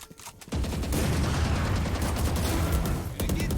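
A shot from the AWP sniper rifle in the shooter game Valorant lands after a quiet start, followed by dense, loud sustained gunfire and impacts that continue to the end.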